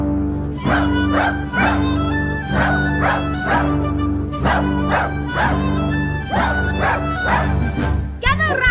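Dogs bark in a regular rhythmic series, about a dozen loud close yaps over a sustained musical backing, as part of a children's stage number about an all-dog alert.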